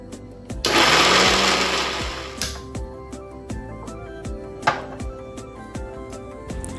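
An electric mixer grinds spices into a paste for a local chicken dish, a loud whirring burst of under two seconds that cuts off, followed by scattered clicks and knocks in a kitchen.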